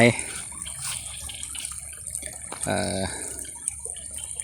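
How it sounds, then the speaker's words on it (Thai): Rice-field water flows outdoors on an evening with a soft continuous trickle and splash. It stays faint and steady, with a few louder gurgles partway through. "น้ำไหล"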